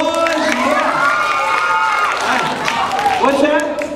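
Elementary school children at a magic show cheer, shout and clap loudly after a trick, a lively crowd roar with excited high voices throughout and an adult voice briefly audible over it.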